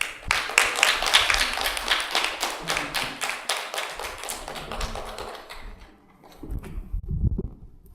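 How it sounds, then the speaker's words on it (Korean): A church congregation claps together in welcome for a preacher, a dense run of many hands close by that thins out and falls quiet after about five seconds, followed by a few low knocks and shuffles. "이 마음 가지고 박수로 환영했으면 좋겠습니다"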